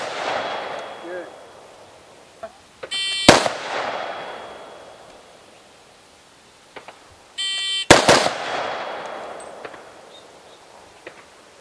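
Two loud gunshots fired during a timed combat shooting drill, a pair of sharp reports close together after a shot-timer beep, then another timer beep followed by two more quick shots, with faint background noise between.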